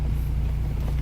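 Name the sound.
1997 Acura Integra engine revving as gas is given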